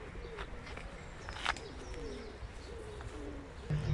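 A flock of pigeons coos in a city park in spring, near ponds joined by a small bridge. The soft, rolling coos repeat steadily at a fair distance over quiet outdoor ambience.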